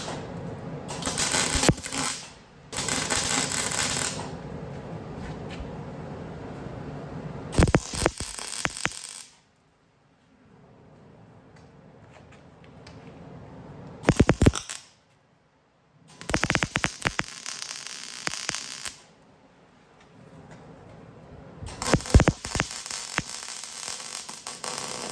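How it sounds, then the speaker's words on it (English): Welding on a DIY lawn trailer frame produces several bursts of close, crackling, buzzing arc noise, each lasting a few seconds, separated by quieter humming gaps. "I'm fixing to have weldage if I can figure out a way to ground it."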